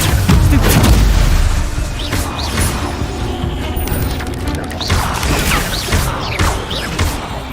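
A fire spell cast in Hogwarts Legacy, a loud booming blast up front followed by crackling, crashing bursts and whooshes during combat with spiders, with a few sharp repeated hits later on.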